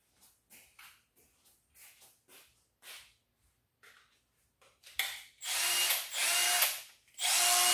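Milwaukee half-inch power drill nearby: a series of short clicks and taps, then loud whirring bursts as the trigger is squeezed and released.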